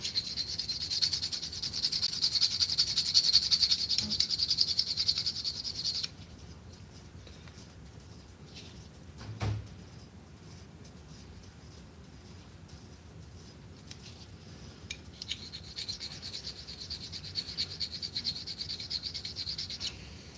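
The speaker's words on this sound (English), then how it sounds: "get into this 1500 grit and just kind of smooth that out maybe" Fine 1500-grit sandpaper rubbed over a soft steel part, giving a steady close scratchy hiss in two stretches of sanding strokes with a quieter pause between them.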